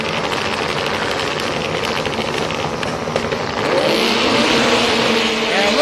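Racing personal watercraft engines roar steadily and loudly throughout a WGP#1 Asian Championships jet-ski race in Thailand. The roar grows fuller and more intense in the second half.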